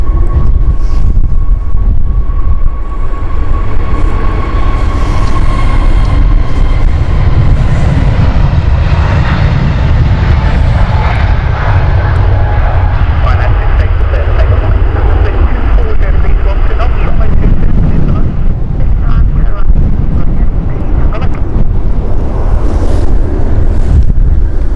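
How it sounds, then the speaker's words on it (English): A Pegasus flight airliner at Stansted Airport gives a loud, steady engine roar that fills the whole stretch, buffeted by heavy wind noise on the microphone. "But here is the Pegasus flight here."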